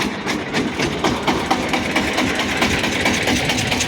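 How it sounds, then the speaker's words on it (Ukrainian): A Shifeng 354 tractor engine runs steadily while ploughing a field with a plough, a loud, continuous diesel drone with a rhythmic mechanical clatter close by. "Зараз трактор заглохне."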